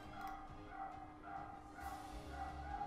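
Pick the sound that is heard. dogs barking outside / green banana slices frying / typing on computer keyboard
dogs barking outside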